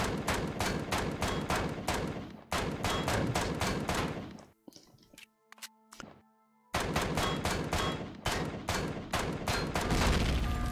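Rapid bursts of automatic gunfire blasting through a base in the sci-fi survival game Empyrion Galactic Survival, dense loud volleys that stop for a few seconds of scattered clanks and hums, then resume just as hard.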